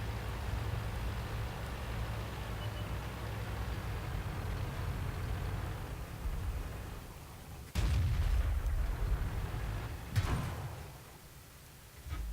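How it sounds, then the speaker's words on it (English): A tracked tank in World of Tanks comes under fire from several sides: a steady engine rumble runs throughout, broken by two sharp, heavy cannon blasts near the end, with no talking. "Alright, getting shot at from all sides."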